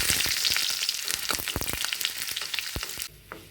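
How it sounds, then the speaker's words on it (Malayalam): Shallots, curry leaves and dried red chillies sizzle and crackle loudly in oil over low heat, with sharp spattering pops, briefly quieting near the end. "തീ കുറച്ച് വെച്ച ശേഷം ഇതിലേക്ക് കുഞ്ഞുള്ളിയും കറിവേപ്പിലയും ചുമന്ന മുളകും കൂടി ചൂടാക്കിയെടുക്കാം"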